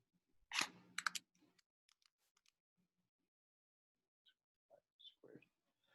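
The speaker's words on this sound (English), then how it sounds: "typing all that in the calculator" Soft, quick button taps come close up in a short burst, then scattered single clicks follow after a quiet pause.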